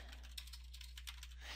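Quick, light keystrokes on a computer keyboard, a short run of soft clicks at close range over a low steady hum, with no talking.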